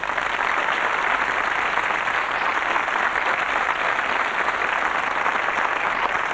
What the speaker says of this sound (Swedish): Först vill jag ha en stor applåd för juryns ordförande Lasse